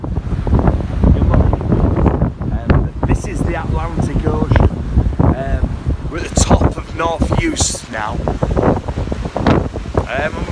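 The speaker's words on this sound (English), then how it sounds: "The wind's just horrendous, absolutely everywhere." Strong wind on the Atlantic coast of Scotland in the Outer Hebrides, buffeting the microphone as a loud, continuous roar with surf and splashing beneath, while a person talks over it.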